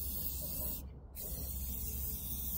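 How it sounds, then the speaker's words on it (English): A Rust-Oleum spray paint can hissing steadily up close, with one brief pause between two bursts. "I do love that Rust-Oleum will let you use their spray paint cans upside down and they still spray."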